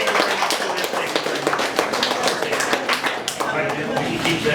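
A small audience claps for a performer at a live music set in a winery, a patter of individual hand claps running throughout, close and fairly loud, with a voice speaking over it.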